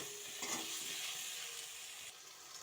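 Salt and turmeric fry in a little oil in a pan, giving a steady, moderately loud sizzle with light stirring scrapes and no talking.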